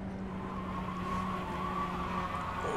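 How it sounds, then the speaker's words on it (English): A Mazda MX-5 race car in the iRacing simulator squeals its tyres in a steady, sustained tone over constant engine drone at the Oschersleben circuit, with no talking. "Lots of tyre squeal, doesn't sound healthy, but I don't think it's too bad in a car like this."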